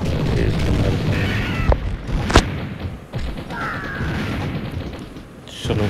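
Rocket launcher explosions in the Mini Militia mobile shooter game, heard as a few sharp, booming thuds in a busy stretch of continuous game noise.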